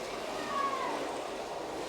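A cat meows once, faint and thin, from outside through an open door, against a steady hum of background noise.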